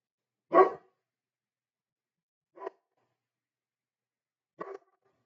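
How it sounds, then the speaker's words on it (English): A dog barks three times, each bark short and spaced about two seconds apart against a silent background, fairly faint and somewhat distant. "And we've got dogs barking."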